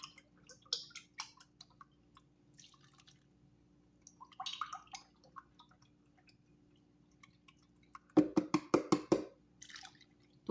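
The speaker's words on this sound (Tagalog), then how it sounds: "Lagyan natin ang almond milk." Almond milk poured into oat cake batter, heard as scattered soft drips and then a brief, louder burst of splashing liquid near the end.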